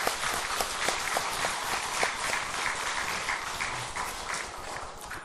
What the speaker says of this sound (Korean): 우리 일어나시면 박수로 한번 위로해 주시면 감사하겠습니다